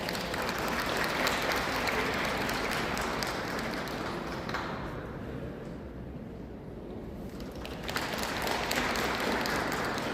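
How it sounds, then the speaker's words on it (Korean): An audience claps warmly at an evening memorial gathering at Muan International Airport, a steady dense patter of hands that dips briefly in the middle before swelling again, with no voices over it. "따뜻한 박수 부탁드립니다."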